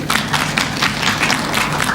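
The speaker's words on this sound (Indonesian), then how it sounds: "Kita berikan tepuk tangan sekali lagi" Audience at an Iwan Tirta Private Collection press conference applauds steadily, a dense, moderately loud wash of many hands clapping with no talk over it.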